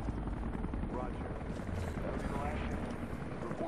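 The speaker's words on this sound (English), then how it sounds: "Last chopper outbound." A helicopter in the video game Rise of the Tomb Raider drones steadily and loudly throughout, a continuous rotor rumble with voices talking over it.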